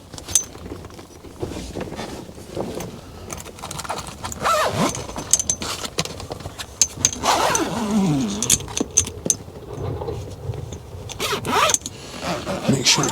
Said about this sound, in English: we'll simply make sure that our windows are all zipped up